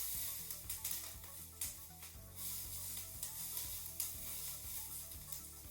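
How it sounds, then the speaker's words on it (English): Oiled peppers char in a cast iron skillet with a steady hiss, punctuated by light scraping and stirring strokes, close and moderately loud with no talk. "You want those peppers to get nice and charred."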